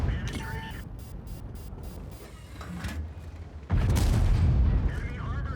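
A tank's main cannon fires in a tank video game: one heavy, booming blast lands near the end over a steady engine-like rumble, while a voice talks over the scene.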